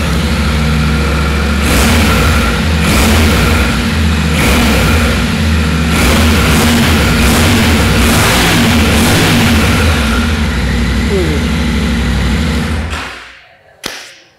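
A Yamaha Tenere 700 World Raid motorcycle engine runs loud and steady, revving in repeated surges over a low throbbing idle, then cuts off abruptly near the end.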